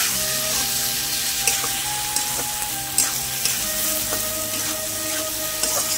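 Chopped tomato with chili powder and salt sautés in a hot pan, giving off a steady, close sizzle broken by occasional clinks and scrapes of stirring, with no talking.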